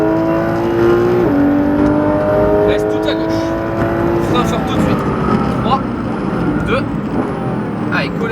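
A Porsche 991 GT3 RS engine at full throttle on the La Ferté circuit, howling loud and near with a sustained high-revving note and gear-change steps, a voice talking over the roar.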